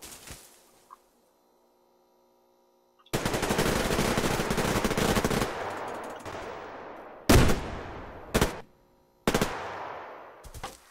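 Automatic rifle fire from a Sako rifle in the shooter game Survarium: a long sustained burst after a quiet stretch, followed by several separate loud shots with echoing tails.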